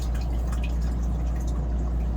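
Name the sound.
RV toilet flushing and filling with water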